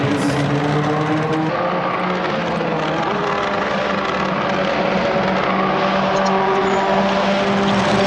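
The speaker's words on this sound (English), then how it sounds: "That is one noisy car, that Corolla." A loud, steady Toyota Corolla racing car engine drone in a racing video game at Interlagos, with rising and falling harmonic tones as it revs and shifts, continuous throughout with no talk.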